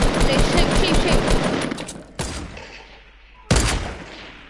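Loud bursts of rapid automatic gunfire in the video game Fortnite, a dense stream of shots followed by a sharp single blast and a second heavy report, close and forceful with no voices over it.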